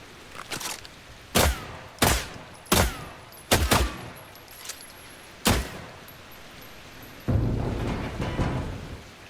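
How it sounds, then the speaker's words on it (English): Gunshots in The Last Caretaker video game: about six sharp, loud single shots spaced irregularly over several seconds, each with a brief decaying tail, followed by a louder sustained rumble near the end. "I think I better shoot that thing off first."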